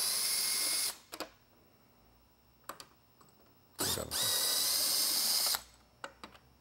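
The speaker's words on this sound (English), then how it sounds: "we're going to need to take off these two screws which are mounted underneath the end cap" Power drill whirring in two sustained bursts, with short clicks between, as screws are backed out from underneath the end cap of a Whelen Legacy DUO+ Super LED WeCan lightbar; close, loud and with no talk.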